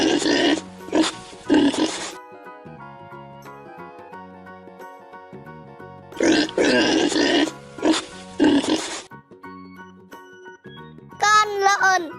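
A pig grunts and oinks in a short burst near the end, following stretches of a voice and light tinkling music; the animal sound is close and fairly loud.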